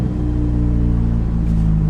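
A 1.6-litre four-cylinder turbo engine in a Stage 2 tuned Ford Fiesta ST revs steadily and loudly throughout, a deep, constant rumble with strong low harmonics and no voices.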